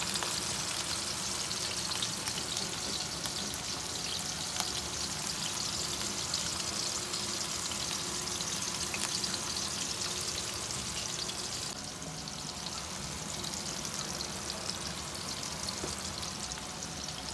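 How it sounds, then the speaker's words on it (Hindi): Kacha keema kababs fry on low heat in a kadhai, giving off a steady, even sizzle and crackle that runs unbroken from start to finish without any talking. "धीमी आंच पे हम इनको फ्राई कर लेंगे।"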